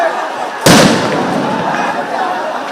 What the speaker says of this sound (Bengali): পুলিশ মাঝখানে অবস্থান নিয়ে সাউন্ড গ্রেনেড নিক্ষেপ করে